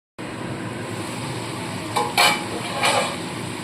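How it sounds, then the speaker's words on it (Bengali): Potato pieces frying in a pan of oil for a Bengali ilish fish curry, a steady continuous sizzle with a few brief louder bursts of clatter near the end, no voices. "আলুগুলো ভালো মতো ভেজে নিয়ে তুলে নিতে হবে।"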